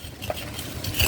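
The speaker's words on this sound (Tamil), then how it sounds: "இந்த மண்ணை கிளறி விட்டோம்னா இன்னும் அந்த வேர் நல்லா பரவும்." Garden soil is stirred and loosened around a plant's base, a short close scraping and rustling with a few gritty scratches, no talking.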